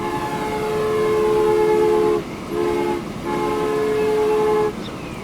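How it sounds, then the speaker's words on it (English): Freight trains in the simulation game Transport Fever 2 rumble past loudly, their horns sounding long sustained blasts that break off briefly twice, with no talk over them. "And there goes another train."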